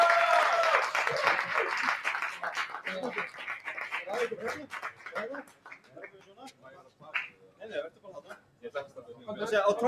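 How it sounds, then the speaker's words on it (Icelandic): Audience applause and cheering at a Rocket League esports championship final ceremony, a dense sustained wash of clapping and whoops with an announcer talking over it. "Og við skulum gefa þetta gott klapp"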